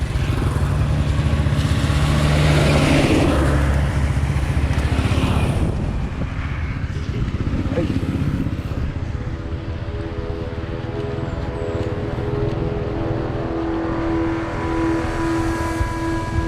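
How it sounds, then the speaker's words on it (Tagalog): A truck roars past close by on a road during a bike ride in Catanduanes, its loud engine rumble swelling then fading into a steady drone of traffic. "Truck."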